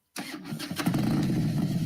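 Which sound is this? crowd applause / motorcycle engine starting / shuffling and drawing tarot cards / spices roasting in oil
motorcycle engine starting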